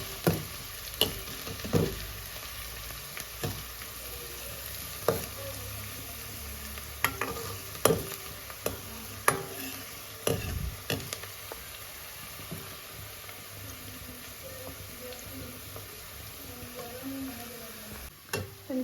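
Chopped onions frying in a pan for a soya chunks dish, a soft continuous sizzle broken by repeated scraping stirs and light clicks of the spoon against the metal, with no voices.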